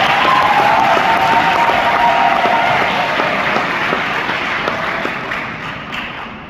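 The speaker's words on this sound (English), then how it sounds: "Give yourselves a big round of applause." Cheers, whoops and applause rise from an audience at a school function in a loud, dense burst, with a sustained whistle in the first seconds, then slowly fade.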